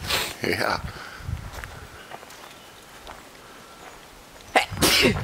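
A person sneezes twice on a forest walk among redwoods, once near the start and again near the end, with brief speech, soft footsteps and outdoor ambience in between.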